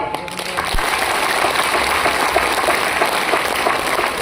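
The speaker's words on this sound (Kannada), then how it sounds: "ಮೊದಲು ಪ್ರೀತಿ ಮತ್ತು ಮೋಹನ್ ಅವ್ರಿಗೆ ಚಪ್ಪಾಳೆ" An audience claps at a Women's Day celebration and cultural programme, a dense, loud, sustained round of applause lasting several seconds.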